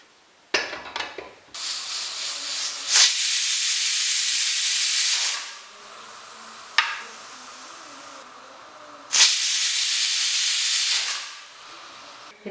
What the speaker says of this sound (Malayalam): ഇത് അടച്ചു വെച്ച് 2 വിസിൽ വരുന്നിടം വരെ വേവിക്കാം